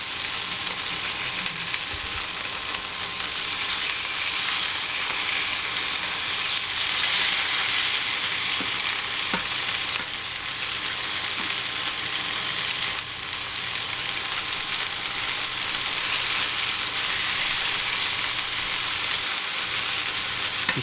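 Chicken pieces sizzle steadily in a hot frying pan, a loud continuous crackle with occasional stirring and scraping and no pause.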